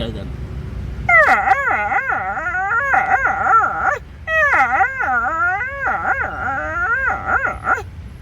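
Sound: man imitating a hungry dog

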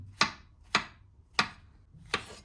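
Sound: chopping mushrooms and spinach coarsely

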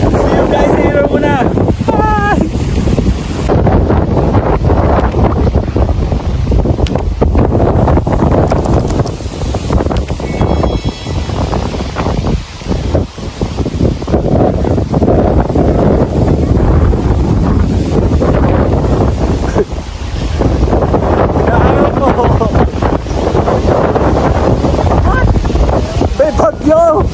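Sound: strong wind blowing during a storm

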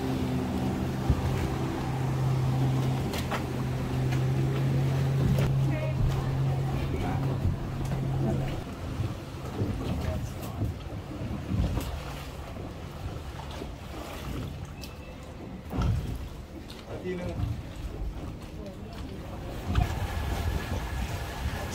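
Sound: new free electric canal boat bus in Bangkok

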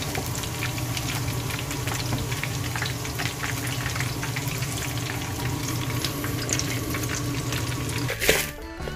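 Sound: king black tiger shrimp deep-frying in oil

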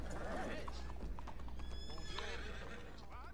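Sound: horse neighing

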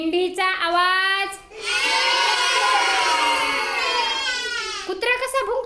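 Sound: children imitating a sheep bleating

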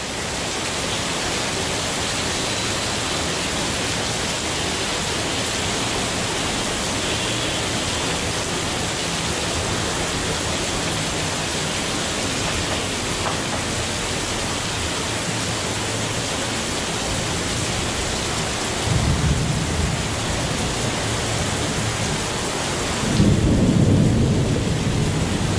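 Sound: cloudburst, heavy rain and thunder in Pune

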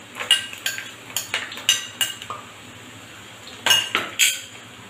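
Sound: sliced onion, pandan leaves and garlic added to hot oil, stirred

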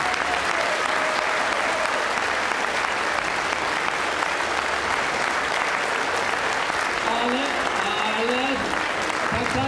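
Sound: crowd applause at political rally

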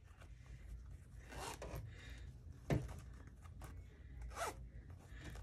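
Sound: zipper being closed on a clutch bag

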